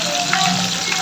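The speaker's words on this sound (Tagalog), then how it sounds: "So, lagyan ko muna siya ng tubig." Water poured into a pot of chicken on the stove gives a steady close gush and trickle over a faint sizzling base, brief and continuous, with no talking.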